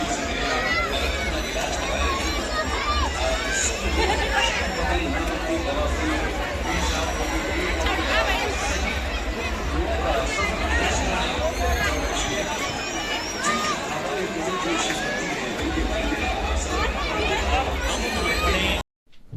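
Dense crowd chatter fills a busy Indian numaish fair, a steady hubbub of many overlapping voices close by with no single speaker standing out, running unbroken until it cuts off abruptly at the end.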